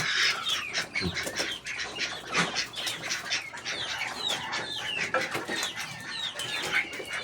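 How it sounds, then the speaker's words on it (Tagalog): A flock of chickens and ducks crowd around at feeding time, a dense chorus of clucks, squawks and quacks with occasional wing flaps, close and continuous with no talk. "Papakain tayo ng aking mga alaga ng mga manok at itik."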